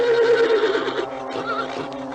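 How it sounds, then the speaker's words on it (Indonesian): A white horse neighing in an Indonesian radio drama: one long, loud whinny close by that wavers and fades over about two seconds. "Kuda putih itu meringkik"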